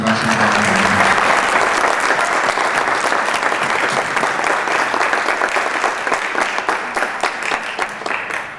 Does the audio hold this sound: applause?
yes